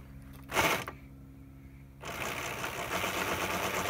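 A homemade electric outboard motor with sprocket drive whirs in two bursts, a short loud spin-up then a steady mechanical whine and rattle that settles into continuous running, no talking.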